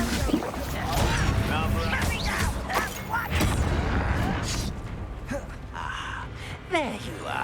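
Fire spell blasts in Hogwarts Legacy, a video game, come as repeated booming bursts and whooshes amid combat, with short effect sweeps and voices talking over the fighting.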